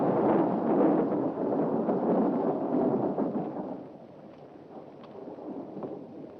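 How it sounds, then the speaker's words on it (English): Thunderstorm in an old horror film: a long rolling rumble of thunder, fairly faint and distant, swelling for a few seconds and then fading into a softer, steady rain-like wash. "Oh, it's a storm."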